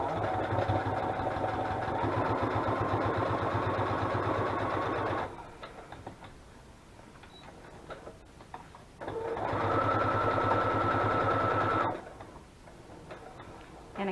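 A sewing machine stitches folded paper pockets in two steady runs, a longer burst of fast rhythmic whirring and ticking followed by a pause of quiet handling, then a second shorter run, all close and clear.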